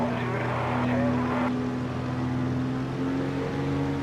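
A Spitfire's piston engine in the Wings of Prey flight simulator runs up for takeoff, a steady loud drone with strong low harmonics that shift upward partway through as the throttle opens.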